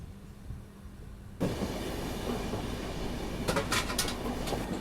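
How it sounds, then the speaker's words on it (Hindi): A passenger train rolls into Dharwad railway station with a constant low rumble that swells suddenly, joined near the end by a few sharp metallic squeals and clicks. "तो ये अपना अराइवल हो रहा है धारवाड़ रेलवे स्टेशन पे।"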